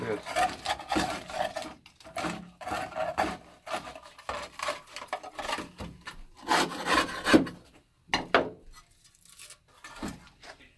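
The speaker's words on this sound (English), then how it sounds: "take a look and see if we can get any of it off that with just some good old screwdriver strength here" A screwdriver scrapes flaking old coating off a Kawasaki KV75 MT1 motorcycle fuel tank in repeated rough, rasping strokes with short pauses, close and fairly loud, with someone talking between strokes.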